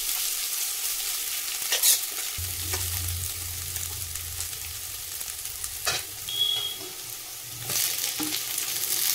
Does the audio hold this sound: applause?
no